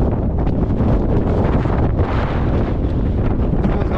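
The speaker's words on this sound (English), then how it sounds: "That is windy as." Strong wind roars and buffets against the microphone continuously in the mountains of Tasmania, a loud rushing blast throughout with no voices.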